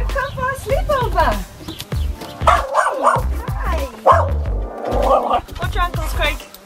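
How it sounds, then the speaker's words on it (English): A schnauzer dog barks in repeated short bursts with a few higher yips, close and loud, while people talk over it. "He's afraid of his own shadow. He's a schnauzer."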